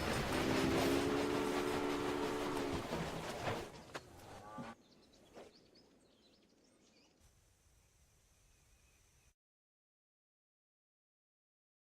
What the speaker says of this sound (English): Your train is now traveling between Omaha and Norfolk.